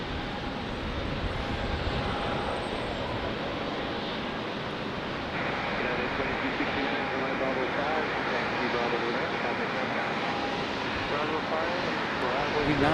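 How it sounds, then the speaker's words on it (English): A United airliner taxiing at Raleigh-Durham International Airport gives a steady, broad engine roar that holds for the whole stretch and swells slightly partway through, with wind noise mixed in. "United back taxiing in a hurry."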